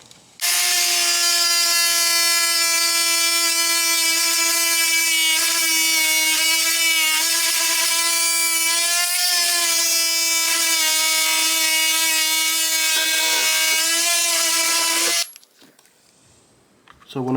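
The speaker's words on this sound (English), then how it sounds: "We're gonna cut the mounting tabs that originally were made for the" A power tool whines loudly and steadily while cutting the mounting tabs off a Honda Accord climate control unit being fitted into a Honda CRX, a sustained high-pitched tonal drone with slight pitch wavers for about fifteen seconds before stopping abruptly.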